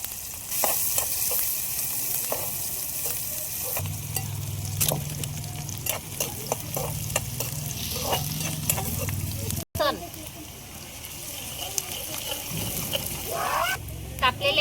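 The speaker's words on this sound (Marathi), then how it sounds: "तो कांदा टाकून घेऊ आणि मस्त परतून घेऊ" Onion fries in hot oil and is stirred steadily, with a constant crackling sizzle and repeated sharp scrapes of a spatula against the pan, close and fairly loud. A voice is briefly heard in the background.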